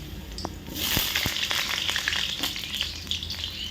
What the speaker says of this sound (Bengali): আলুগুলো তেলেতে ছেড়ে দেওয়া হলো।